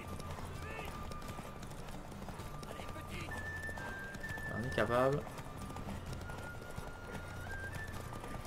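Horse hooves clip-clop at a gallop in The Witcher 3, a steady rhythmic beat under game music and a brief whinny, while someone talks over it.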